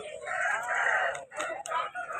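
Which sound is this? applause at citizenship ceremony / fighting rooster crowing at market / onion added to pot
fighting rooster crowing at market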